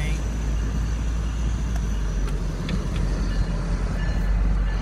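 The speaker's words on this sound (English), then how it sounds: "we got the Marc commuter train." A MARC commuter train passing nearby produces a loud, continuous rumbling roar with steady wheel and track noise throughout.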